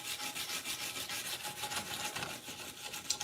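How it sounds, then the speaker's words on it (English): Close, rhythmic wire-brush scrubbing on rusty metal: quick, harsh back-and-forth scraping strokes repeat steadily with no talking. "This is supposed to be like a welding wire brush."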